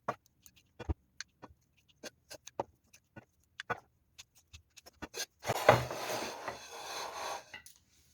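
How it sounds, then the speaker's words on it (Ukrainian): Small sharp snips and clicks tick irregularly as tops and tails are trimmed from rosehips, then a longer scraping rustle near the end, close and fairly quiet. "Спочатку зрізаю верхівки та хвостики."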